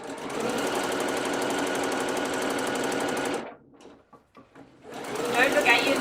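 Sewing machine stitching around the top of a garment sleeve, running loud and steady for about three and a half seconds before stopping and then briefly starting again, with a voice speaking over it.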